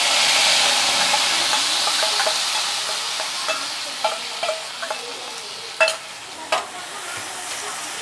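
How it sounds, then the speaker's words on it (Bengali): Spice paste mixed with water added to a sizzling pan with a dried red chili, giving a loud steady frying hiss that eases slightly, broken by a few sharp spatters and clinks near the end; no talk. "একটা শুকনো লঙ্কা, আর যেই মশলাটা আমি রেডি করে রেখেছিলাম ওই মশলাটা জল দিয়ে গুলিয়ে দিয়ে দিচ্ছি।"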